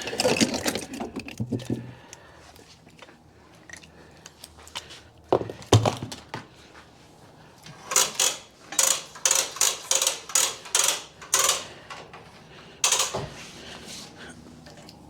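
A pneumatic impact wrench run off a new compressor and air system during an RT3-360 oil seal replacement fires a rapid series of short, loud rattling bursts, after earlier clanks and thunks of tools being handled.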